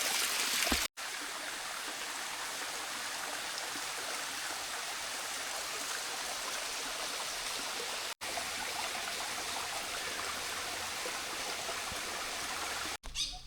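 Cold water flowing steadily in a hill stream on a hillside estate in Kollam, a continuous close rushing and trickling wash with no voices, broken by a few brief cuts.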